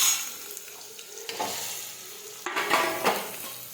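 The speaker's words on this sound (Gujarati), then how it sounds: "હવે આપણે તેમાં રાઈ નાખી દઈશું, હિંગ નાખીશું, સમારેલા તુરિયા નાખીશું," Mustard seeds, asafoetida and chopped ridge gourd fry in hot oil with a soft, continuous sizzle. A few clatters of stirring against the pan come through, loudest near the end. Nobody speaks.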